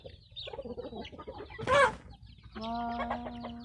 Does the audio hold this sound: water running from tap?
no